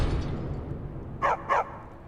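A dog in the video game Skyrim barks twice in quick succession, fairly faint and distant over a low background rumble.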